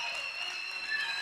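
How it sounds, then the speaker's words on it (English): Audience applause at a dream-themed stage talk, a steady wash of clapping hands holding evenly for about a second with no voices over it. "so round of applause."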